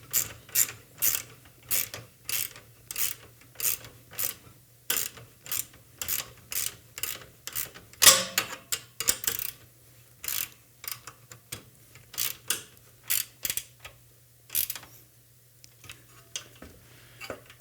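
A ratchet wrench tightens bolts on a robot chassis, giving quick bursts of sharp metallic clicking that repeat in short runs with brief pauses between them, close and clear with no talk.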